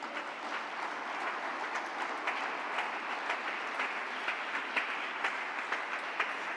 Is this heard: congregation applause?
yes